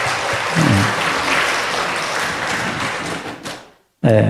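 A church congregation breaks into sustained applause at a Sunday service, a dense steady wash of clapping that fades out near the end before a burst of louder claps returns.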